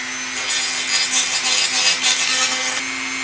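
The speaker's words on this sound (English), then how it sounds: "Now I'm going to smooth out these edges." Rhythmic abrasive scraping on the edges of a wooden DIY arboreal enclosure, steady back-and-forth strokes up close over a constant background hum.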